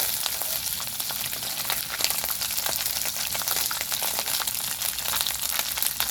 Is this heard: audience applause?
no